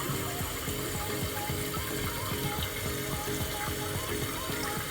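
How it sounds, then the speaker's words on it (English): Water runs steadily into a toilet bowl as the tank refills after a new flapper and fill line are fitted, a continuous close rushing with a low pump-like hum underneath and no talk. "that's that water right there. It's filling up this bowl."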